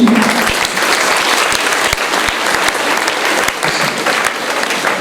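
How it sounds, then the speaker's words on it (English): A school audience gives loud, sustained applause to welcome a distinguished guest, with dense clapping and a few sharper individual claps standing out near the front. "Let's clap for him."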